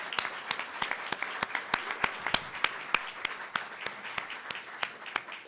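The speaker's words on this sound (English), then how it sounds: "If we can just give you all a round of applause." A round of applause for parents and kids at a Maryland bill signing, with a handful of distinct, fairly close claps standing out over a softer, even bed of clapping.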